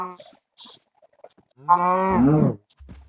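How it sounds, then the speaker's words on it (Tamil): A cow moos in the Minecraft video game, one loud, close, drawn-out low moo after a couple of brief soft sounds, with a quiet thud at the end. "அடுத்து மாடு."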